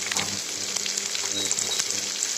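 Onion and tomato sizzle steadily in a steel pan over a lowered gas flame, a continuous close crackle with faint stirring scrapes and no talk.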